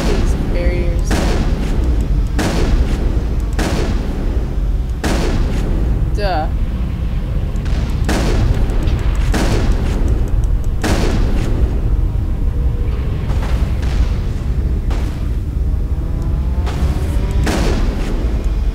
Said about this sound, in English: Let me see if I can shoot these barriers.